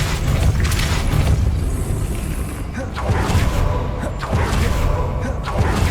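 Hogwarts Legacy's Depulso spell produces a dense, continuous roar of magical force with heavy booming low end and several sharper thuds and bursts layered on top, loud and close, with game sound beneath.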